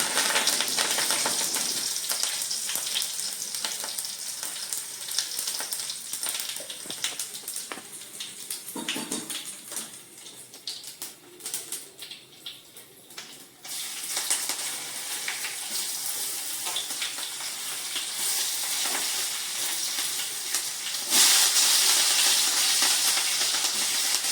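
A steady, broad hiss of oil sizzling with tempering spices in a pan, continuous and fairly loud, dipping briefly midway before surging again.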